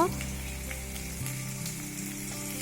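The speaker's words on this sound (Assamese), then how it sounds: "জলকীয়াকেইটা প্ৰথমতে দিব, তাৰপিছত পিঁয়াজখিনি লগে লগে দিয়ে দিব। এতিয়া এইখিনি অলপ ভাজিব।" Green chillies and onions sizzle in hot oil in a pan, a loud, even, close frying hiss with a brief burst as they hit the oil.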